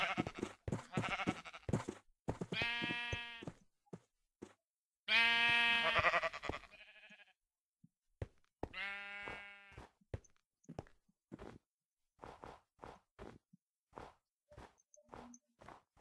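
Minecraft sheep give a string of clear, close bleats, separated by short game sound effects and brief pauses. No voices are heard.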